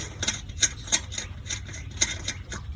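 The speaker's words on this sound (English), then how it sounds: "We're going to put the lug nuts on." Lug nuts go onto a car wheel with a series of light metallic clicks and ratcheting ticks, close by and irregular, with quiet gaps between them.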